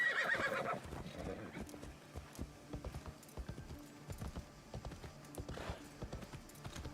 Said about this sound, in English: Let's get the horse.